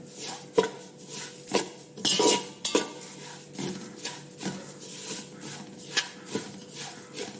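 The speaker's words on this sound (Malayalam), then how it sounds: "കരിയാതെ ശ്രദ്ധിക്കണം അവസാനം കരിഞ്ഞു പോകും അതുകൊണ്ട് നന്നായിട്ട് ഇളക്കി ഇളക്കി" Chammanthi podi ingredients being roasted and stirred in a pan, with repeated scraping and clinking of a utensil against the metal in an uneven rhythm over a faint sizzle, close and moderately loud, with no voices.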